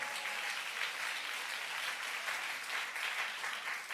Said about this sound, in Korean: 우리 박수 한번 쳐주시길 바래.